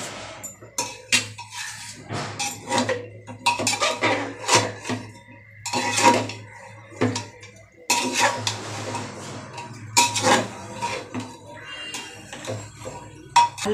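A utensil stirs and scrapes food mixed with coriander, cumin, turmeric, chilli, pepper, salt and oil in a metal cooking pot, giving repeated clanking, scraping strokes at close range in irregular bursts.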